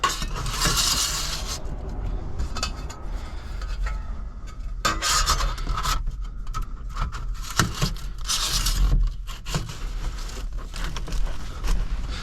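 A metal gasket wizard tool tucking tint film into the rear window gasket of a Toyota 4Runner, with repeated close scraping and rubbing strokes in uneven bursts and brief pauses, no talking.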